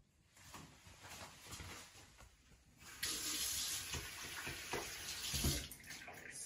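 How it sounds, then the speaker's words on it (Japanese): Hands washed under a running tap at a sink: a steady splash of water that grows louder and fuller about halfway through as the hands move into the stream, close and alone without talk. "これからちゃんと手洗いをしていきたいと思います。"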